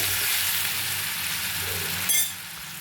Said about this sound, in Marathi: आपण जे हिरवी मिरची कोथिंबिरी आणि लसूणाची केलेली पेस्ट ती छान भाजल्यानंतर